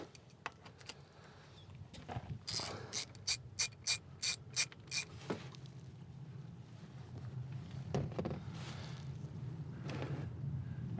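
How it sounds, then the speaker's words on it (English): A 14mm socket on a ratchet loosens the drain plug of a Subaru TR580 CVT transmission. A run of crisp, evenly spaced pawl clicks sounds up close, with faint handling noises and scrapes before and after. "take our 14mm socket, take our drain plug loose, and let our fluid drain into our drain pan"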